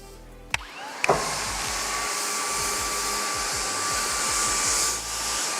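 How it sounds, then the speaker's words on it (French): A floor scrubber machine running with its rotating brush and suction, a steady loud motor whir and hiss after a couple of clicks at startup, continuing evenly with no talk. "Dès que vous avez mis en route la brosse, donc la brosse va tourner, va entraîner la machine"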